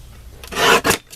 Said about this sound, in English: we're gonna trim this off a bit